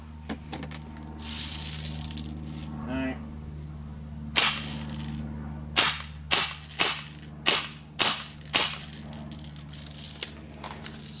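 An Umarex Steel Force BB gun fires a string of sharp, snappy shots, about eight in a loose rhythm, close and crisp, with a few faint clicks and rattles before the shots.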